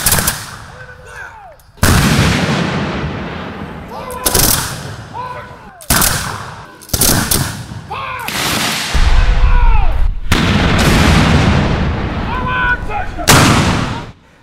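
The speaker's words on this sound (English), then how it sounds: "It's at that point when the artillery begins to fire." Artillery cannons firing at a Battle of Alamance reenactment, with about seven sharp booming blasts spaced irregularly over several seconds, each followed by rolling echo, loud and close, with faint crowd voices between shots.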